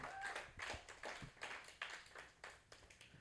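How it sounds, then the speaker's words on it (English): Applause from a poetry slam audience at a First Friday event: a short run of faint, rhythmic clapping from a small crowd, rising and falling in soft bursts. "another round of applause for Skylark."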